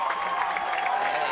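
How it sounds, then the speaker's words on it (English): High school football crowd cheering at a Coatesville game, a steady roar of many voices at moderate distance with a faint voice over it. "And you hear that crowd"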